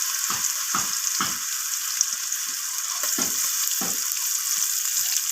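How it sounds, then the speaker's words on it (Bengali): Chopped onions fry in hot oil with whole cumin, chillies, cinnamon and cloves, a bright, constant sizzle broken by several close scraping stirs at uneven intervals, with no voices. "পেঁয়াজগুলো যতক্ষণ একটু নরম হয়ে আসছে পেঁয়াজগুলোকে আমি ভেজে নেব"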